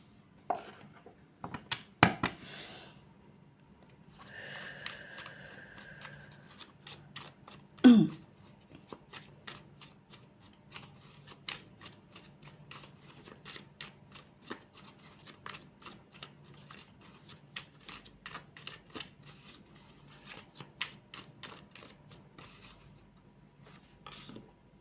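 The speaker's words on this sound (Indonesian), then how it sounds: "saya akan kocok dulu semua kartunya" Tarot cards being shuffled by hand, a long run of close, crisp riffling flicks and soft slides with irregular rhythm, occasional louder taps, and faint murmured talk early on.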